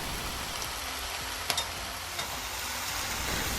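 Shrimp sizzle in a pan while being tossed with salt and pepper seasonings, a dense steady hiss with a couple of brief metallic clinks, close up and without talking.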